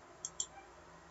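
Two quick, faint mouse clicks a fraction of a second apart, crisp and close against near silence.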